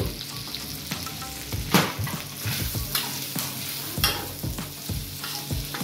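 Chicken, prawns and carrot stir-fry in a hot pan for fried rice, a constant oily sizzle broken by repeated sharp scrapes and knocks of a spatula, close and clear with no talking.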